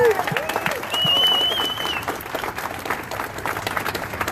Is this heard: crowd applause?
yes